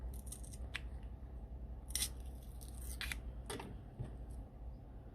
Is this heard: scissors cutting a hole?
yes